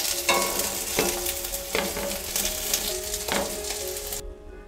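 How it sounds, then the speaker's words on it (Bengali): Soybean chunks fry in oil in a wok over a high gas flame, with a constant loud sizzle broken by about four sharp scraping stirs at regular intervals. "গ্যাসের ফ্লেমটা হাইতে দিয়ে এই সয়াবিনটা আমি খুব ভালো করে লাল করে ভেজে নেব।"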